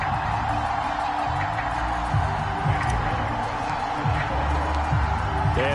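Sold-out stadium crowd in the Madden football video game, Bills hosting the Titans in Buffalo, a steady roar of cheering that stays loud throughout, with a commentator talking over it.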